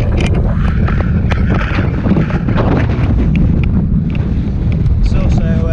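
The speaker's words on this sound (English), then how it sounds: "quite windy" Strong wind rumbling and buffeting against the microphone of a cyclist riding with a tailwind along an old Roman road in Lincolnshire, loud and continuous, with brief faint sounds mixed in.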